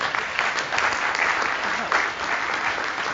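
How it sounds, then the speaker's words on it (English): A conference audience applauds after a talk on documentation, a full, continuous round of clapping with a few faint voices underneath. "one more round of applause then."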